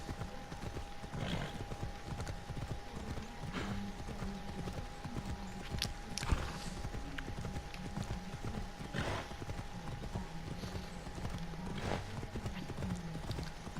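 Horse hooves clip-clop at a steady walking rhythm in Assassin's Creed Odyssey, close and clear over a quiet game ambience, with occasional sharper clicks and a faint snort.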